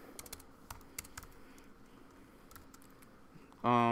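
Code being typed on a computer keyboard at a software engineering club session, with irregular close key clicks over a quiet room and a loud voice cutting in at the very end.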